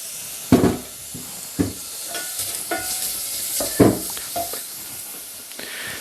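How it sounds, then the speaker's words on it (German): Onions sweat in a little oil in a pot under a soft, continuous sizzle, broken by a handful of louder stirring scrapes and clinks spaced unevenly, heard close with no talking. "Da kommt in den Topf ein bisschen Öl rein und dann die Zwiebel. Die schwitzen wir ein bisschen an."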